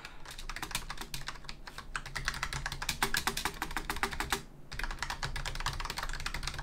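Steady, rapid typing on a budget VicTsing metal-framed membrane RGB gaming keyboard, with dense clacking keystrokes close up and a brief lull partway through. No voices.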